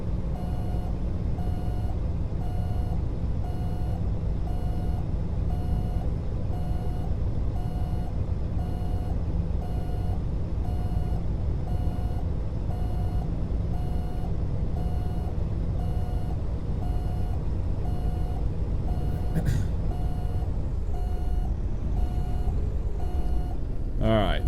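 In American Truck Simulator, a Freightliner Classic XL truck sounds steady, evenly spaced reversing beeps over a constant engine drone while backing up, with a voice talking over parts of it.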